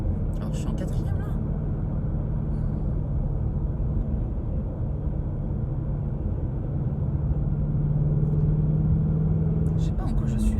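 A Ford Mustang GT cruises in fourth gear on an open road, its engine a steady low rumble heard from inside the cabin, with someone speaking over it.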